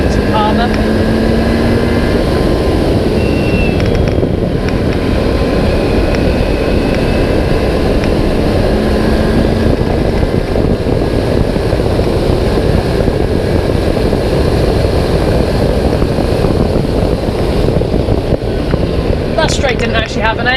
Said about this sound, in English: Just braking really heavily here for Montreal, really tight hairpin. And then we accelerate out on our way down to Palmer.